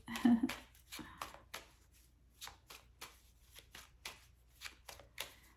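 Angel number cards being shuffled and pulled, a run of crisp riffling bursts and soft slaps repeating at irregular intervals, close by, with no talk.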